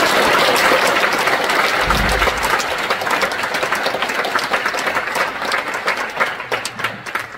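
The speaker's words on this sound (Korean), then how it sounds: "다시 한번 뜨거운 박수를 부탁드리겠습니다" Sustained applause from an audience at an award ceremony, a dense, loud wash of clapping that fills the whole stretch and thins slightly toward the end.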